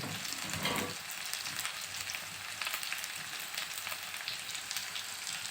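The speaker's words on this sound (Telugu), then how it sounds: "ఆయిల్ కొంచెం హీట్ అయ్యాక అప్పుడు రైస్ తిప్పుకోండి" Egg fried rice with tomato being stirred in hot oil, a continuous loud close sizzle with scraping stirs throughout and a heavier burst at the start.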